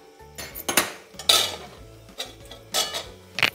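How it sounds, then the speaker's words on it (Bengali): Mutton keema and yellow peas being stirred in a pressure cooker, with a metal spoon clinking and scraping against the pot in several separate bursts. It is close and fairly quiet, with no talking. "ভালো করে ঘুরিয়ে নিয়ে"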